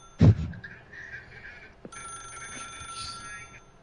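A telephone rings with a bright electronic warble that repeats steadily for a few seconds, moderately loud over a faint background, with no talking.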